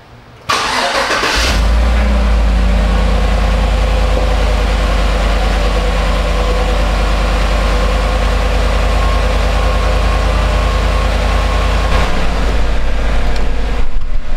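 A 2018 Chevy Silverado with an in-tank fuel pump and fuel pressure sensor: a loud, close engine catches after a brief crank, then settles into a steady, even idle that continues for the rest of the clip.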